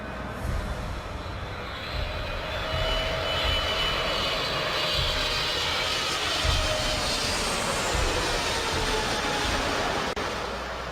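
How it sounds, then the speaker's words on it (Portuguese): A steady, broad roar of a landed airplane's jet engines fills the scene without pause, loud and sustained with a faint whine above it. "observe que o avião pousou"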